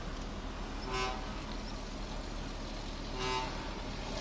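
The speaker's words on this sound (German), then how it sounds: "Und hier wird ordentlich gehupt." Car horns honk twice, short toots a couple of seconds apart, over a steady rumble of engines and traffic noise at the Street Mag Show car event in Geiselwind, Germany.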